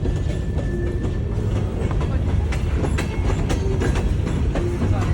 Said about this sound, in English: it was the train